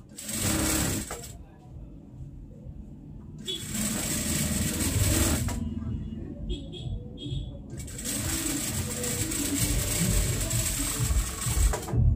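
A sewing machine stitches a girls' pant leg in quick rattling bursts, three long runs separated by pauses and a few short taps, heard close with a voice talking faintly underneath.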